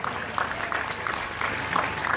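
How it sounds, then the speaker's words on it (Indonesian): Brief applause from a crowd for santri students at a National Santri Day gathering on an open field, a short patch of moderate clapping under a distant, echoing ambience. "Tepuk tangan untuk santri-santri semuanya."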